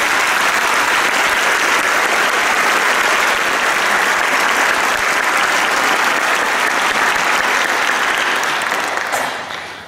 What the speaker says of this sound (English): Would you please help me in giving them a round of applause?